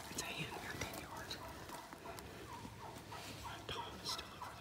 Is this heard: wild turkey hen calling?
yes